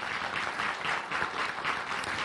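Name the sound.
audience applause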